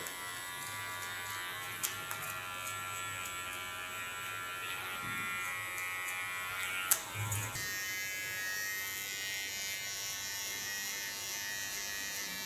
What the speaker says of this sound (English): I'm testing new blades for Theo Knoop clippers because we're working on tattoo blades